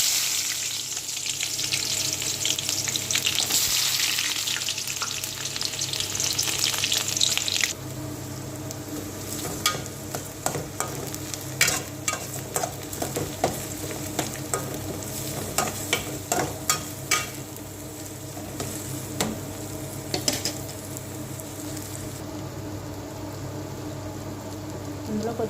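Hot oil sizzles and spits steadily in a pan, loud and hissing at first, then settling into a lower frying crackle with scattered pops and stirring clatter near the end.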